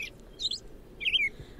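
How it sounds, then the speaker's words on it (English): An American robin's dawn song recorded in New York: two or three clear, warbling chirped phrases, crisp and fairly close, separated by short pauses over faint background hiss. "have 10 tracks of robin sound. I'm just going to play you one of them."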